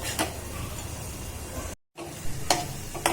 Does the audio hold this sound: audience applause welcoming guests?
no